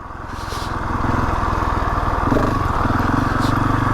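Husqvarna 701 Enduro motorcycle riding off-road on an easy trail, its single-cylinder engine holding a steady, loud rumbling drone that builds slightly at the start and stays even throughout, with a faint voice underneath.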